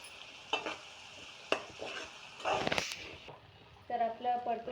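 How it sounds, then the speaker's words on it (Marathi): Chicken masala with onion and ground spice paste is stirred and sautéed in a pan for sukka chicken, soft sizzling broken by sharp spoon scrapes and clanks, with a voice talking briefly. "सगळं मस्तपैकी मिक्स करून परतून घ्यायचं आहे।"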